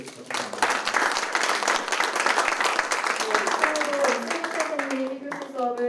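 Audience applause at a classroom-themed talk event, sustained clapping from a crowd for several seconds, with a voice speaking over the end.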